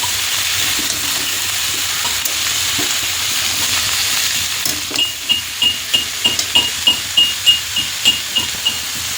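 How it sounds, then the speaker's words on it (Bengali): Bottle gourd frying in a pan with panch phoron and bay leaf gives a loud, steady sizzle, joined later by a regular series of spatula scrapes and knocks against the pan. "আর এখন হচ্ছে লাউ, 5 ফোড়ন দিয়েছি, তেজপাতা দিয়েছি, দিয়ে লাউটাকে দিয়ে দিয়েছি।"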